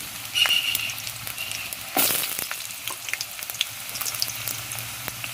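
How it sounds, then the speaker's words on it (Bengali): Potatoes dropped into hot oil in a wok, a loud burst of crackling sizzle that swells again at about two seconds, then settles into steady frying with stirring clatter, close by and free of talk. "কড়ার তেলটাও গরম হয়ে গেছে, আর এই আলুগুলো দিয়ে দিচ্ছি"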